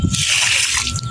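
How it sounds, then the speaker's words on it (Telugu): Water poured onto tulsi plants in grow bags, a brief close splashing and trickling rush lasting about a second, no talk. "ఇప్పుడు వాటర్ పోస్తున్నా."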